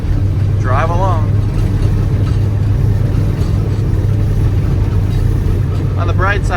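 A Bombardier J5 tracked vehicle drives steadily through a swamp, its engine a constant low drone under the clank and rumble of the tracks, with a person speaking briefly over it.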